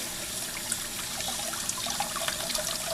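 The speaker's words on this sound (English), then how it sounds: "If it is something valuable like this, I'm just washing it off." Water running over an antique glass bottle being washed, a steady close splashing and trickling stream with small clinks and drips throughout.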